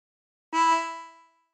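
A lone harmonica blow note on hole five, from the second phrase of Bella Ciao, held about a second with a warm reedy tone and a gradual fade.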